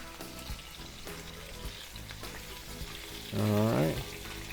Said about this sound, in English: Look how nice and crispy these things are, frying up so good.